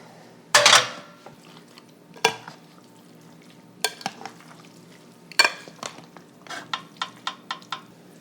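Sauce poured over pasta in a pan and stirred in, with a run of sharp utensil clinks and scrapes against the pan, close and fairly quiet, with no talking.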